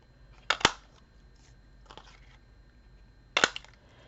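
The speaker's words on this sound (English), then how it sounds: "I have a 1-inch punch, and I basically will cut out the circles" A 1-inch paper punch cutting circles from painted junk-mail paper for a holiday garland: two sharp, close crunching clicks about three seconds apart, with a fainter click between them in a quiet room.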